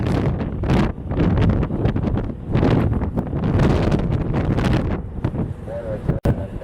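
Strong wind gusting to 21 knots at an airport buffets the microphone in loud, uneven bursts, nearly drowning out a voice talking underneath.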